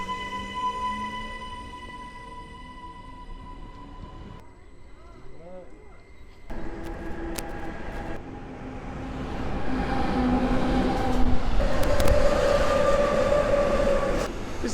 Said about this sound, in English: This train's about to take off though.